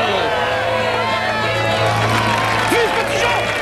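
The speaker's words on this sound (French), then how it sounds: "un de nos amis qu'on applaudit bien fort" An audience at a Robin Hood themed show applauds and cheers a character arriving from Sherwood Forest, with steady dense clapping and crowd noise running through the whole stretch and voices mixed in.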